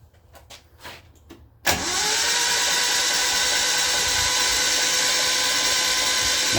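A 1968 Datsun 1000 shed-find engine is cranked over. After a few faint clicks, a steady, loud mechanical whirring drone starts abruptly and holds without a break.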